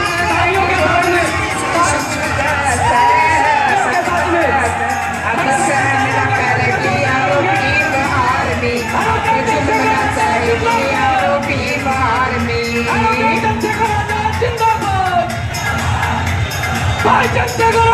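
Crowd cheering, whooping and chanting at a Bhim Army national convention rally as Chandrashekhar Azad arrives, a dense, loud and continuous roar of many voices with yells throughout.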